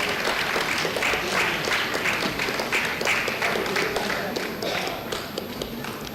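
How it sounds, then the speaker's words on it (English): A conference crowd at a chemical engineering prize ceremony claps in a dense, steady round of applause that lasts several seconds and tapers slightly toward the end, with faint voices underneath. "A big round of applause"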